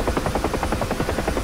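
Rotor chop and turbine drone from a UH-1H Huey helicopter in the DCS flight simulator, a steady rhythmic thumping that fills the cabin and runs continuously and loud throughout.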